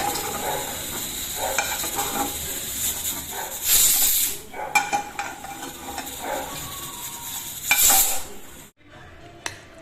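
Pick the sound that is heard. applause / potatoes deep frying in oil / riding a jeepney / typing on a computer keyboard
potatoes deep frying in oil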